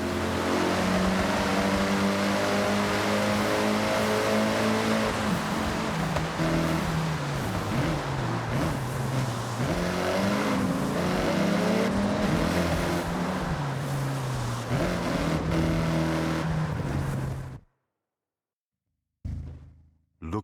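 A loud turbocharged car engine with anti-lag, in the video game Forza Horizon 6, revs and roars continuously with shifting pitch, gear changes audible, then cuts out abruptly near the end with a brief burst after silence.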